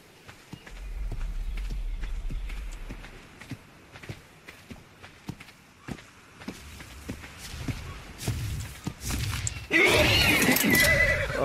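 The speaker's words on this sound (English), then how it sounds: "I found a horse." A horse in the video game Ark neighs in a long whinny, followed by scattered hoof clip-clops and footsteps that build up before a louder burst of running hooves near the end.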